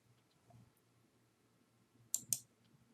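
A computer mouse on a desk gives a quick double click, two faint, sharp ticks close together near the end of an otherwise near-silent stretch with no talking.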